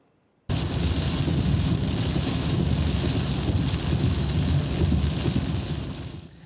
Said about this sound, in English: those strong thunderstorms and flooding that hit across the metro area